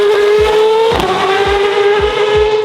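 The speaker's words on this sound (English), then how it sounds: "that is the f***ing loudest car I've ever heard, ever" A very loud drift car revs hard on city streets in Dublin during a street drifting event. The engine holds a sustained, piercing high-pitched roar close by, with rhythmic low pulses underneath and no talking.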